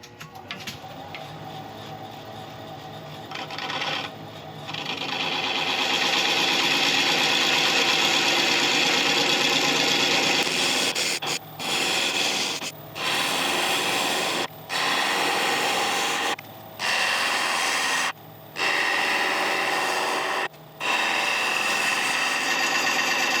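A woodturning lathe texturing a thuya burl, with a steady whirring, buzzing tool sound that runs in bursts broken by several short pauses, close and fairly loud with no voices.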